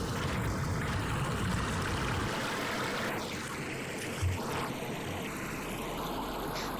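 Flowing water near a waterfall in a video game, a steady rushing wash of moderate loudness with faint swirling movement, without speech.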